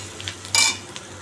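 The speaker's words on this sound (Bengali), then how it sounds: "পেঁয়াজ আলু দিয়ে কাঁচা লঙ্কা দিয়ে একটা ভাজা ভাজা করে আলু ভাজা টাইপের করে" Potatoes, onion and green chili fry in a pan, heard as one quick, close scrape of a utensil stirring over a low sizzle.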